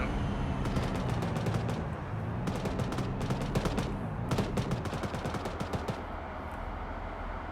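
Tank cannons and machine-gun fire from T-72 tanks in a military video game, sounding as dense, continuous bursts of rapid gunfire over a heavy rumbling battlefield background, with no talking.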